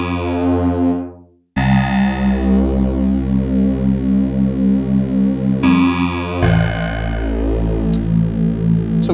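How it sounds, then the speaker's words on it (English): Behringer Pro VS synthesizer droning a steady buzzy tone while its joystick sweeps between waveforms, the timbre morphing and phasing continuously with a brief drop-out and abrupt shifts in character, no talking. "So we can hear the joystick being moved from one wave to another."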